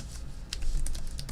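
Quick, irregular clicks of computer keyboard keys as an answer is typed out, light and close, with short bursts of several keystrokes over a soft background hum.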